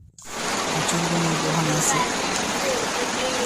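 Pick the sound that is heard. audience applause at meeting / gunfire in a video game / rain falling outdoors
rain falling outdoors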